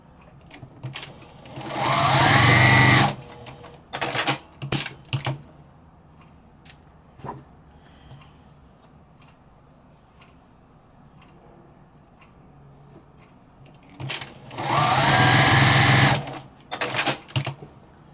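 A home sewing machine runs in two bursts of steady rapid stitching on a quilted potholder with a small stitch length, with quieter clicks and handling noises between and around them.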